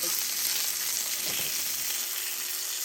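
Sausage pieces sizzling in a skillet for sausage gravy, a steady, fairly loud crackling fry with a brief stir or scrape in the middle and no talking.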